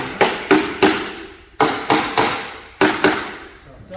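A shelf tenon is tapped into a Milwaukee Packout rear rack, giving three bursts of sharp, close knocks, two or three quick strikes each, with short gaps between.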